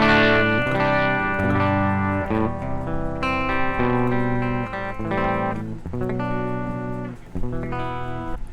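A gritty, distorted electric guitar on the bridge pickup, through a BAD94 distortion pedal, plays a run of changing chords and notes, bright and continuous, with no talking.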